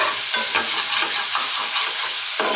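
Green chillies and black cumin seeds sputter in hot oil, giving a steady hiss with soft crackles and occasional stirring scrapes across a short stretch.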